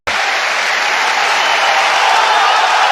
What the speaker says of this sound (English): Applause around the Emirates Stadium